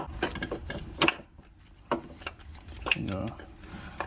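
A socket on an extension tightening the serpentine belt tensioner bolt on a 2.4L Chevy Equinox or GMC Terrain, a few scattered metallic clicks and ratcheting knocks, close by, with faint movement between them.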